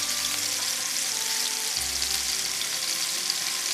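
Meatballs fry in a pan with a steady, dense sizzle that stays loud and even throughout, along with a faint low hum underneath.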